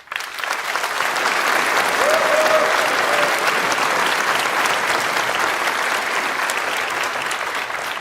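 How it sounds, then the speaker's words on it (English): An audience applauds at the UK launch of the Geely EX5 car, a loud, dense and steady wash of clapping from a large crowd that swells quickly and holds for the full length. "I think Geely EX5 deserves a big applause here."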